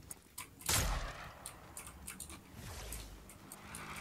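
Gunfire in Fortnite at Tilted Towers: one sharp, loud shot cracks out, followed by fainter scattered pops and ticks, with no talking.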